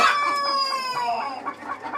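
Chickens cluck and a rooster crows loudly and close, a brief burst of overlapping fowl calls on a poultry farm with no talking.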